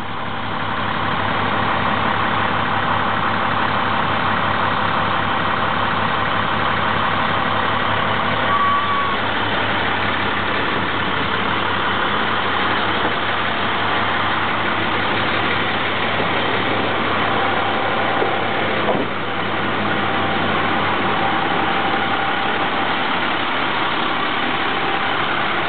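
An International 4300 Durastar truck with 356,395 miles idles after a cold start, its engine a steady, close, unbroken drone that holds evenly throughout with no voices.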